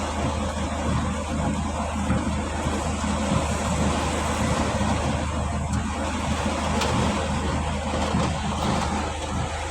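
Heavy rain and strong wind during a stopped road trip, a steady loud wash of broadband noise with low rumble throughout, heard from inside a vehicle, with no talk.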